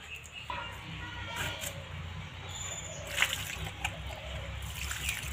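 Water is poured over cut pieces of unripe jackfruit, a steady close trickle and splash running throughout with faint background sound.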